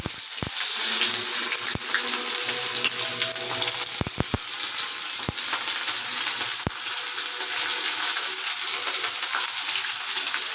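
Onions sizzle and fry in hot oil for a home chicken recipe, a steady broadband crackle throughout with a few sharp ticks and knocks, close and fairly loud, no talking.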